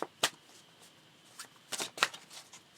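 Tarot cards are shuffled in a quiet room, giving several short papery riffling bursts at irregular intervals, close by and soft.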